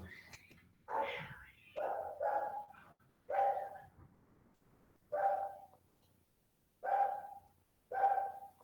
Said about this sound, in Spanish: Se estaba peleando mi gato con otro gato, o con mi perro, yo creo.